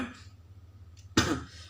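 A man with COVID symptoms and a fever coughs once, a single harsh, close and fairly loud burst after a short throat noise, set against quiet indoor room tone.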